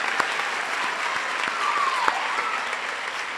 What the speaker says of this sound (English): How about another round of applause for Palmetto High School varsity cheerleaders and drum line?